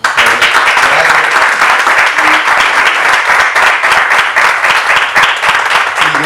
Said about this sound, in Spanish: quiero dar la bienvenida con un fuerte aplauso a nuestro profesor y amigo José Joaquín Puello